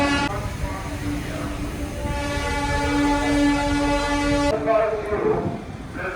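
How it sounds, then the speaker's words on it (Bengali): Darjeeling toy train near the entrance to Darjeeling, sounding a loud sustained horn over rumbling wagons for about four seconds before it cuts off into street noise with voices. "দার্জিলিং ঢোকার মুখে আবারও টয় ট্রেনে দেখা পেয়ে গেলাম"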